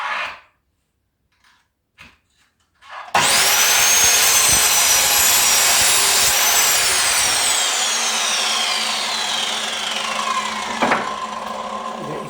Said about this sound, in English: Always cut to the right hand side of your line, leaving some excess.